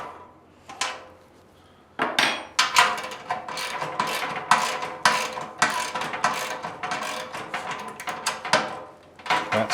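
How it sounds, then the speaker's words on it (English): A spanner and socket wrench tighten the bolts on a metal sewing machine stand, giving a run of sharp metallic clinks, ratcheting clicks and knocks in irregular bursts after a quiet start, close and fairly loud. "I'm going to use both the spanner and the socket wrench, and I'm going to tighten that and that."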